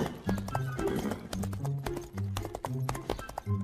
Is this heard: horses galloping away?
yes